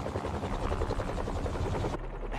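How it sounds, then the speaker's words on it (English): Helicopter rotor blades in the Spider-Man 2 video game, a steady loud pulsing thump that holds close and constant, with a thinner high band dropping away near the end. "a helicopter's blades."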